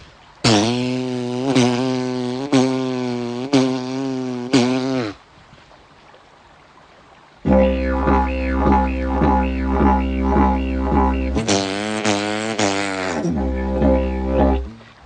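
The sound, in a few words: didgeridoo imitating a kangaroo hopping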